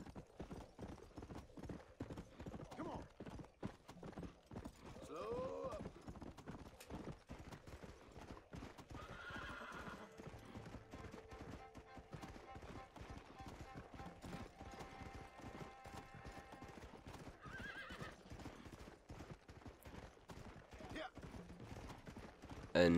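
Horse hooves clip-clop in a steady galloping rhythm as a rider travels across open country in Red Dead Redemption on Xbox 360, with an occasional whinny and someone talking over the hoofbeats throughout.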